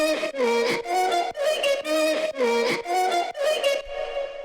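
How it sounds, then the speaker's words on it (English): Chopped vocal lead melody sample in an Ableton session, sounding as a string of short, punchy sung syllables that stutter in a rhythmic pattern and end with a brief fading tail. "So this is basically just a chopped up version of that vocal lead melody."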